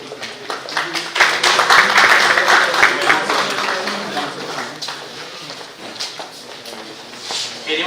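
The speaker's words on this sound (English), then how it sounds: "Let's have a round of applause." An audience at an IT expo in Jaipur claps during an on-stage felicitation, a loose round of applause that swells early, then thins into scattered claps, with some voices mixed in.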